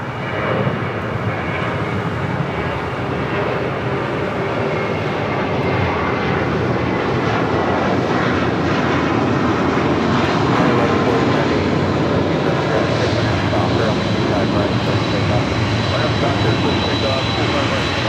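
A jet airliner landing at Los Angeles International Airport gives a steady, loud engine roar that fills the whole stretch without a break, with faint radio-style talk mixed in.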